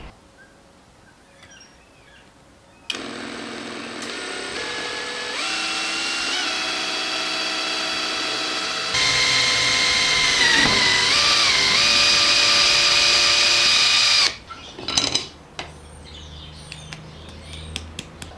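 A power drill whirs loudly for several seconds, drilling a small hole in a Subaru WRX turbo part, its pitch shifting as it bites in, then stops abruptly; faint bird chirps sound in the background.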